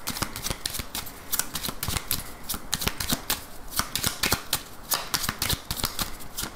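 A 32-card deck being shuffled: a continuous run of rapid papery riffles and flicks, close and steady throughout, with no voices.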